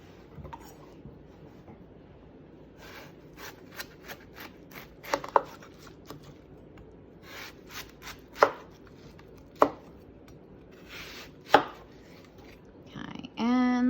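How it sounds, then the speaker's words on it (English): A knife cuts a watermelon in half and into thick slices, giving a few sharp, separate chops over a quiet background. "It is how I cut the watermelon. Cut it in half and make thick slices."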